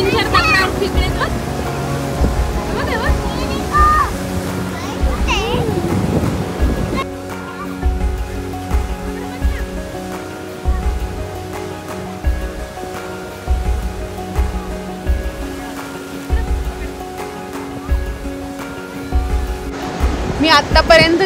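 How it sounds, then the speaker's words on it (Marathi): Huge waves of a rough monsoon sea on the Konkan coast roar and crash in a continuous loud wash, with wind buffeting the microphone and people talking faintly at times. "इतका डेंजर खवळलेला समुद्र मी कधीच पाहिला नाही आहे जो की हा आहे. आणि इतक्या मोठ्या लाटा, खूपच डेंजर आहे हा."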